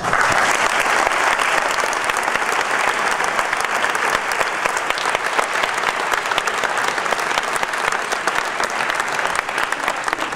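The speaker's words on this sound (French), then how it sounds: "je vais d'abord commencer par vous demander de l'applaudir vraiment fort." Large audience at a France-Israel foundation event applauds loudly for a speaker, a thick, sustained roar of clapping that stays constant and close for the whole stretch, with no talking.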